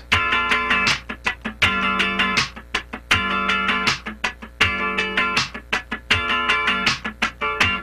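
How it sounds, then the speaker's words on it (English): A funk rhythm guitar chord is strummed in steady groups of four sixteenth-note strokes, crisp and close, repeating evenly with short gaps between groups. "let's start by just playing 4 16ths in a row like this"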